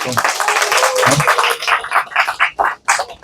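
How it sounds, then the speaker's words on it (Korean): A church congregation claps in thanks during a worship service, a short, fairly loud burst of applause. Speech cuts in over the clapping toward the end. "우리 감사의 박수를 한번 드립시다."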